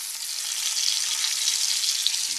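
Shortening heats in a frying pan with a steady, close, continuous sizzling hiss that holds an even level throughout, with no talking.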